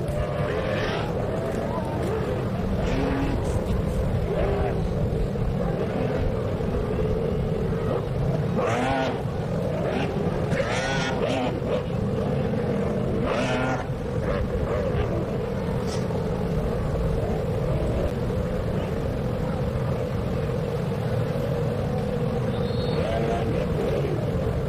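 Powerboat engines from F1 H2O racing on Lake Toba, Indonesia, drone steadily in a continuous broad roar, with a commentator speaking over them throughout.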